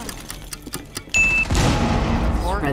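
A frag grenade detonates in a Rainbow Six Siege match, a sudden loud burst after quieter footsteps and clicks, followed by a sustained rumbling, crackling roar of debris and gunfire-like noise that lingers to the end.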